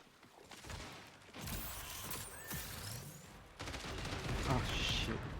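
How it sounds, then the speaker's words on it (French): Rapid gunfire in a video game rattles in dense sustained bursts with mechanical clatter, loud and continuous, with background game noise and a few quiet voices. "Je tire partout"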